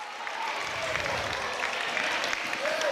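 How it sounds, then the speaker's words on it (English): A high school girls basketball crowd in Revere gives a standing ovation, with steady, dense applause filling the gym throughout and a faint voice over the clapping. "And Bottero will get a standing ovation from the Revere crowd"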